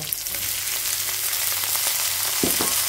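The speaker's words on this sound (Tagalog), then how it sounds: "At yan ay ginisak ko yung bawang at saka sibuyas." Garlic and onion sauté in a hot pan with a steady broadband sizzle, a couple of soft utensil knocks near the end, no voices.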